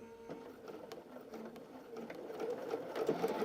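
A sewing machine runs steadily, stitching an overlapping quilt seam on a country-style patriotic quilt, its rapid mechanical whirr and needle ticks close and continuous, growing slightly louder.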